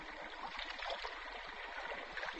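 A stream of water flows through a cave, a steady, continuous rushing and trickling wash that fills the whole stretch at an even, moderate level.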